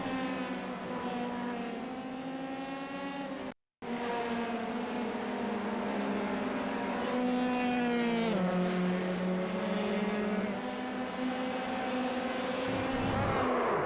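Formula 3 race car engines howling around the Suzuka circuit in iRacing, a loud continuous high-revving whine rising and falling with gear shifts, briefly cutting out before resuming.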